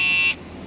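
Digital torque wrench set to 22 foot-pounds, used on a 2012 Avalanche 5.3, gives a short, loud electronic beep that stops abruptly, then a brief hush before another beep starts.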